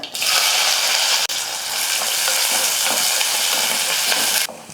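Sliced onion and curry leaves hit hot oil in a pan after mustard seeds have popped, giving a loud, bright sizzle that bursts in abruptly, crackles steadily for several seconds, then cuts off.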